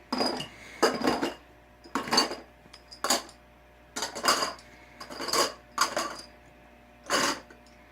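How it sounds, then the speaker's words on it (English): Small plastic cupping cups dropped one by one into a bowl, about eight distinct clattering knocks at uneven intervals, close and fairly clear against a quiet room. "I always have a bowl handy that I can toss them into"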